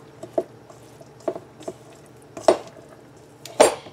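A spoon stirs a shredded cheese mixture for English muffin pizzas in a bowl, giving a few scattered soft scrapes and clinks with quiet pauses between them.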